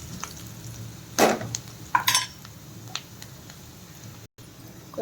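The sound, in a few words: stirring the fish fry in the pan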